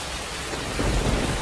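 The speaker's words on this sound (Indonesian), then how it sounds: "Hujan deras yang turun selama 2 hari tanpa henti membuat tanah di bukit utara desa menjadi penuh air." Heavy rain pours down in a dense, steady hiss, and a deep rumble of thunder swells through the middle, all close and enveloping with no voices.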